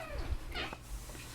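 A house cat gives one short meow, fairly near and moderately loud, over a quiet room background with faint low rumble.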